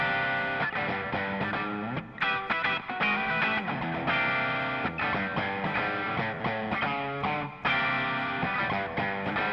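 Distorted electric guitar in a mix with reverb added for depth, playing loud continuous chord passages with brief dips between phrases.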